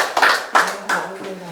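A small group claps after a forest walking meditation: three short bursts of hand clapping, close and fairly loud, with a voice briefly sounding near the end.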